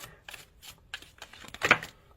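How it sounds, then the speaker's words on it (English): Tarot cards are shuffled by hand in a run of quick, crisp riffling bursts, close and dry, with one sharper flurry near the end and no talking. "These cards are so difficult to shuffle."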